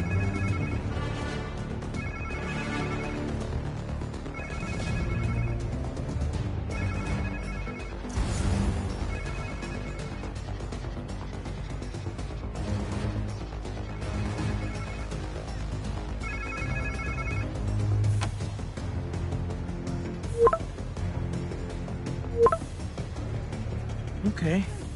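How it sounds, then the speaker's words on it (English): A phone rings repeatedly in short electronic bursts in the video game Spider-Man 2, with background music and talking running underneath, followed by a couple of sharp impacts. "Sounds like somebody's phone."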